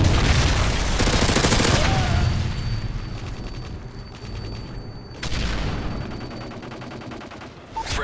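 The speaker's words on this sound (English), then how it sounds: "Friendly Predator missile inbound" Heavy barrage in Modern Warfare 3 on a domination match, with loud rumbling blasts and rolling explosion noise from a Predator missile strike mixed with scattered gunfire, fading then swelling again.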